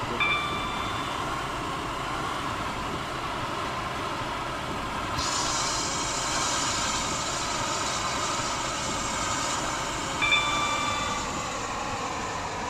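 A train runs in the Stepford County Railway game, a steady rolling rumble and wheel noise with a brief high whine partway through, continuous and close with no talking.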